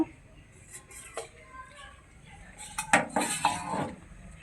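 A lid comes off a pot of simmering taro curry. Faint metallic clinks come first, then a louder burst of clattering and scraping of metal against the pot rim in the second half.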